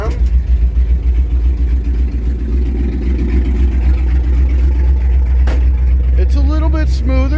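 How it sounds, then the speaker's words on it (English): A warm 1965 Ford F100 with a Predator carburetor idles at about 900 RPM, a loud, steady low rumble close by, with someone talking over it toward the end. "Still idling about 900 RPM."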